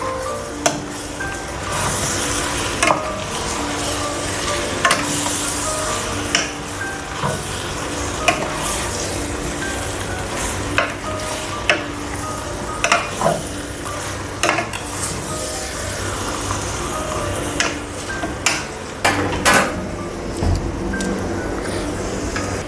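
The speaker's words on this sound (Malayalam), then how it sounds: "ഇനി നമുക്കിതിനെ നന്നായിട്ടൊന്ന് മിക്സ് ചെയ്ത് കൊടുക്കാം." Chicken pieces stirred through a hot cooking pan, a steady sizzle running throughout with sharp spatula scrapes and clicks against the metal at irregular intervals, close and fairly loud.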